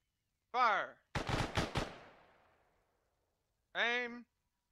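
An honor guard rifle volley at a virtual Memorial Day ceremony in a video game: several sharp, loud shots fired in a tight ragged cluster with a fading echo, set between shouted commands.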